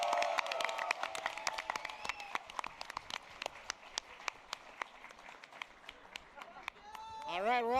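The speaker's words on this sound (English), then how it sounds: "Please give a round of applause for all the Anime Expo staff" Crowd applause at Anime Expo with sharp scattered claps standing out, fading in intensity, then a voice speaks briefly at the end.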